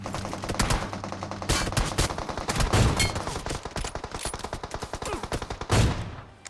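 Gunfire in the mobile battle-royale game PUBG (BGMI): rapid bursts of automatic shots and single loud cracks in quick succession, close and loud, with no talk.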